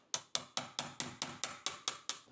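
Nine light, evenly spaced hammer taps on a chisel while cutting a deadbolt recess into a door edge for a Weiser electronic keyless deadbolt, each a sharp close knock with a quick decay.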